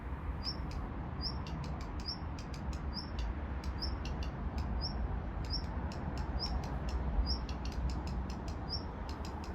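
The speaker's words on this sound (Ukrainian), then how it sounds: "Ось так вона тріщить." A redstart chatters in repeated short, high dry bursts over a steady background hiss, the calls moderately close and fairly even in rhythm.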